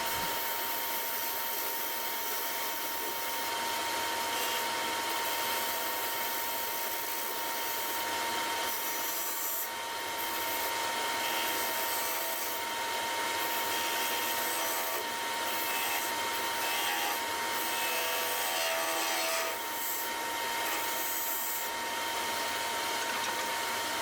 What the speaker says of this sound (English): I'm now going to take my skew chisel and blend the body into the hat